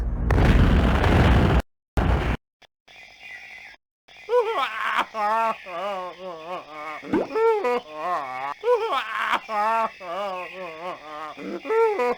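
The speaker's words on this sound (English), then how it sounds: "The kid's got a bomb." A bomb goes off after a countdown in the video game Down in the Dumps, a loud, roaring blast at the start. Brief quiet follows, then cartoonish voices groan and chatter.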